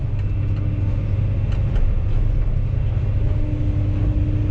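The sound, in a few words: SANY SY215C excavator engine running at earthworks site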